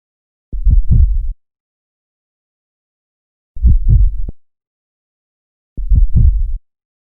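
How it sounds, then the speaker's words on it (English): A slowed heartbeat sound effect gives three deep, muffled double thumps, evenly spaced with silence between them, clean and close with no other sound. "let's see if we can add that heartbeat sound onto it. Here's just the clean sound of the heartbeat."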